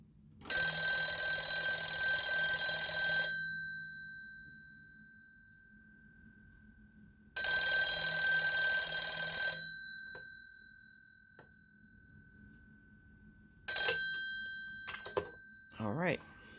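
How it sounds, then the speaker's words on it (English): A 1967 Argentinian Standard Electric 201 telephone rings three times, each a loud bright metallic bell burst of two to three seconds separated by silence, the last ring cut short as the handset is picked up. "I'm going to give you 3 rings on the telephone so you can hear what it sounds like"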